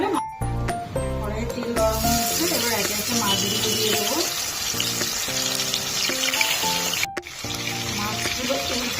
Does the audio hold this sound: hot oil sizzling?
yes